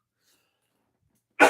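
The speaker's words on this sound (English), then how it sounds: "I might like cough right here and there" A single short cough, close to the microphone, bursting out at the very end after near silence.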